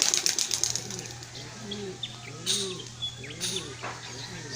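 Pigeons in a loft flutter and flap their wings in quick bursts, with soft cooing and chirps nearby and a steady low hum underneath; people talk faintly in the background.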